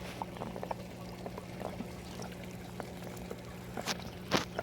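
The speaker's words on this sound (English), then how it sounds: "Dripping all the way around." Water trickling and dripping through an aquaponics grow bed filled with Hydroton clay pebbles, soft continuous splashing with scattered louder drips over a steady pump hum.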